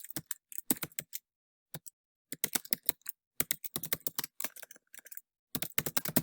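Quick bursts of keystrokes on a computer keyboard, close and crisp, coming in short clustered runs separated by brief silent pauses.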